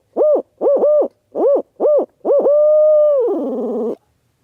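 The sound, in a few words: soft owl hoots imitated by turkey hunter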